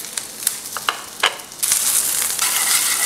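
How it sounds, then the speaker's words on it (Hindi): Diced onion and capsicum being tossed in hot oil in a kadai: sharp clinks and scrapes at first, then a loud continuous sizzle as the vegetables hit the oil, heard close up. "तो प्याज और शिमला मिर्च को इस प्रकार हमें टॉस कर लेना है।"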